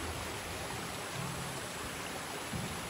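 A river flows steadily near a bridge at a camp in Antique on Panay, a broad continuous rushing of water, close and unbroken, with no voices.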